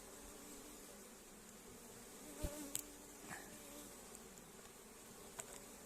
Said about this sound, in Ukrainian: А бджоли то товчуться, не можуть бідненькі пролізти.